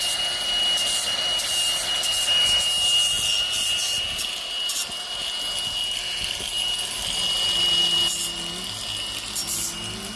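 A Milwaukee M18 power tool bevels the end of a cut pipe, giving a steady, high-pitched grinding whine that runs continuously at close range, with no talking.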